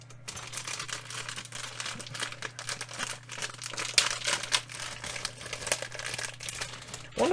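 Plastic bags from a Gundam model kit are torn and opened up close, giving a steady run of crinkling and rustling with a few sharper rips and faint clicks.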